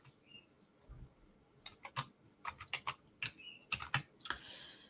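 Quiet typing on a computer keyboard: a short pause, then irregular bursts of crisp key clicks, close and soft, with no talking.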